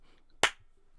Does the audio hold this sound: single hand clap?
yes